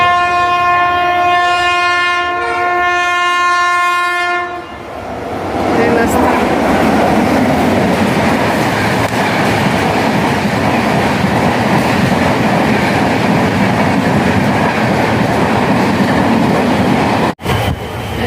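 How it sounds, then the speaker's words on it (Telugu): A loud train horn blares for several seconds, then the heavy rumbling roar of a train rolling in close by fills the rest. "వచ్చే ట్రైన్ అదే కావచ్చు"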